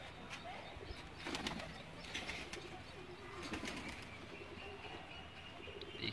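Faint pigeons coo and flutter their wings nearby, with bursts of flapping against a quiet background.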